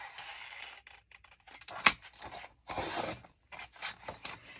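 Scissors or a blade cutting through a paper folder, with soft scraping and rubbing strokes, quiet and close, in short irregular bursts.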